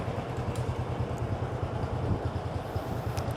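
A 2010 Honda Wave 125s motorcycle with stock exhaust idles with a steady low, even putter, close by and unchanging throughout.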